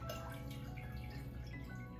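Roasted vegetable juices dripping into a pot of broth, soft liquid trickles and drips heard close and quiet over a steady low background hum, with no speech.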